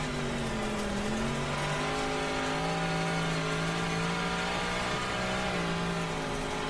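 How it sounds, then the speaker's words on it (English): A race car engine on the speedway during a Thursday Night Thunder race, a steady droning roar at part throttle with gently rising and falling pitch, loud and continuous throughout. "And you can listen to that car."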